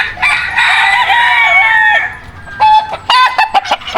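A rooster crows loudly and close by at a Philippine game farm, followed by a burst of sharp, excited clucking from chickens.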